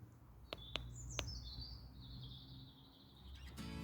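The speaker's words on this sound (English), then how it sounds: "Sounds of the birds." Birds chirp and sing outdoors in a garden, a few sharp clicks followed by a long thin descending whistle, faint against quiet background hum.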